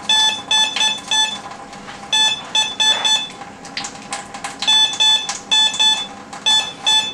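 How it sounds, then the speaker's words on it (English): A Bounty Hunter Land Ranger Pro metal detector sounds repeated bright electronic beeps over a modern copper clad quarter, coming in short clustered bursts with brief gaps, loud and alone. "going to test a few coins and other objects with the Land Rover Pro metal detector"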